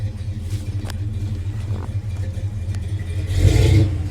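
A 1978 Ford F-250 idles with a low rumble and light clatter after a cold start, then its engine revs once sharply near the end, swelling louder before settling back.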